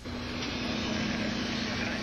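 An airplane engine drones steadily from inside the cabin as the plane comes to a stop, a constant close hum with faint talk underneath.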